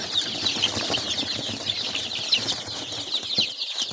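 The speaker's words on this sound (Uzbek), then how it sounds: "Bular ham juda ham sog'lom jo'jalar, hammasi. Bular 20 kunlik jo'ja." Twenty-day-old Andijan black chicks cheep continuously in a dense, high-pitched chorus, close by, with scattered rustling and fluttering beneath the chatter.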